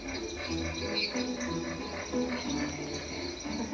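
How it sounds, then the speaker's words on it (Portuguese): Dense nighttime chorus of frogs and toads in northeastern Brazil, a steady layered trilling and pulsing of many overlapping callers at moderate distance, with rhythmic swells throughout and no talking. "Fica uma sinfonia de sapos, né?"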